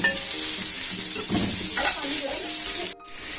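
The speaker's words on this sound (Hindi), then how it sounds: "उसी देचकी में थोड़ा सा ऑयल डालूँ। लहसुन है तो डालें, नहीं है तो कोई बात नहीं, तो मैं डाल देती हूँ थोड़ा सा लहसुन।" Garlic sizzles in oil in a cooking pot with a loud, steady hiss and crackle, and a spoon stirs through it before the sound cuts out briefly near the end.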